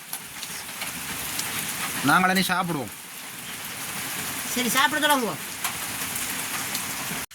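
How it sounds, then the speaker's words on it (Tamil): Heavy rain falls steadily around a village home in the Vanni region, a dense hiss lasting throughout while people talk over it at a meal of crab curry and rice. "நல்ல மழையும் பெய்யுது"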